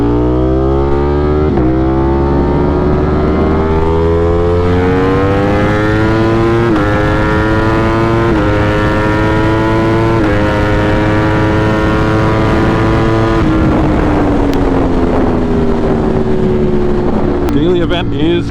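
A 208HP Ducati motorcycle accelerates on a muggy morning commute, its engine rising through the gears in long climbing pulls with brief shift dips, loud and close throughout.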